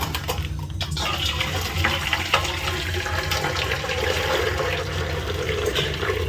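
Water pours and gushes steadily as it is drained from a cooking pot of village chicken biryani rice, a continuous close splashing flow with no one talking.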